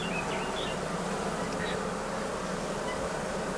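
A dense, steady buzz of many honeybees at an open hive fills the air without pause, close and continuous, with no voices.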